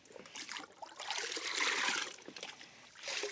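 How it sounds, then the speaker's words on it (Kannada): Sugar and salt being stirred into water for chicks, soft liquid swishing and trickling that swells and fades in waves, close but quiet, with no speech. "ಎಲ್ಲ ಸಕ್ಕರೆ ಕರಗೋ ಹಾಗೆ ಮಿಕ್ಸ್ ಮಾಡಿ."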